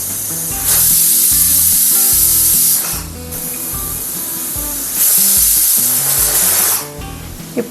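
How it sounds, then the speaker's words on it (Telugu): A pressure cooker cooking rice lets off steam in two long, loud hissing bursts separated by a short lull, with low steady tones running underneath. "ఇంకొక 2 విజిల్స్ వచ్చాక స్టవ్ ఆఫ్ చేసుకోవాలి"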